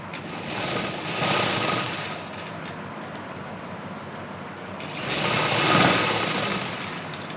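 A sewing machine stitches dupatta fabric into a kurti, a fast whirring drone that swells in two bursts with a pause between them.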